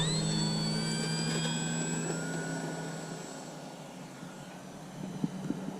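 A small Arrows Bigfoot model airplane taxis on a wet, misty morning after landing, its engine giving a high, steady whine with pitch shifts as it turns, fading slightly toward the end.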